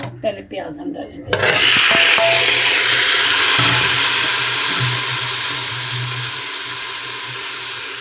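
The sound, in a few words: onions frying in oil in a pressure cooker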